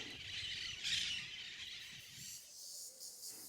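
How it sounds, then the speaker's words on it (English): A motmot calls in the tropical dry forest at Masaya, Nicaragua, giving a few faint squawking notes against a soft insect-filled forest background. "including the motmot, Nicaragua's national bird."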